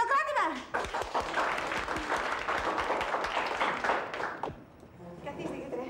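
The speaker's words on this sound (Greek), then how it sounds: "Χειροκρότημα!" Schoolchildren in a classroom applaud a visiting doctor, a dense burst of clapping that fills most of the clip and tapers off near the end, with children's voices mixed in.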